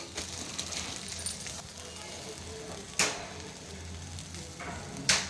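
A slice of bread sizzles steadily on a hot pan, a soft constant fry broken by a few sharp clatters as it is handled and flipped, with a voice talking over it.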